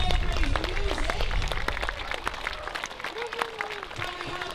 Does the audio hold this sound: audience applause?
yes